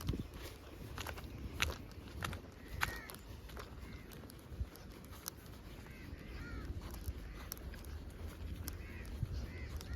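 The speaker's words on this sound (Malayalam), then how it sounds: "കാക്കയൊക്കെ കരയുന്നുണ്ട് ഇവിടെ." Crows cawing outdoors at a roadside stop on a road trip in Musandam, Oman, several harsh caws scattered across the stretch at moderate distance over footsteps and faint ambient noise.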